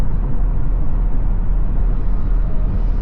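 Cabin hum inside a 3.5-liter EcoBoost pickup truck with the air conditioning running, a constant low rumble and airy whir, steady and fairly quiet, with no talking.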